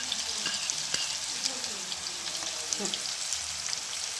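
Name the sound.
carrots and cabbage frying in a pan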